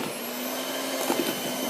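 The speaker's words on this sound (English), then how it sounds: "Then we're going to mix it all up in low speed." An electric mixer runs steadily on low speed through cupcake batter, a continuous close whirring hum with no talking.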